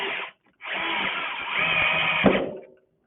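A power drill runs bolts down on a two-stroke engine during a rebuild, sounding close and loud in two bursts, a short one and then a longer sustained whir that rises near the end before stopping.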